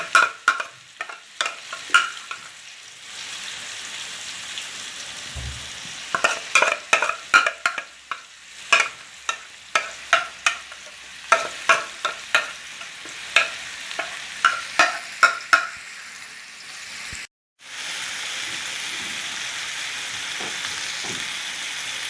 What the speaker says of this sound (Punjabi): ਇਹ ਨਾਲ ਅਸੀਂ ਇਹਨੂੰ ਪਲਟਦੇ ਜਾਵਾਂਗੇ ਤਾਂ ਕਿ ਹਰ ਤਰਫੋਂ ਹੀਟ ਲੱਗ ਜਾਏ ਨਾ